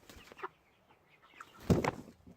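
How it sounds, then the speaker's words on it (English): A small bantam-sized rooster clucks in a few short, soft bursts close by, with a louder flurry near the end that may include wing flaps. "he's a little rooster, little bitty feller"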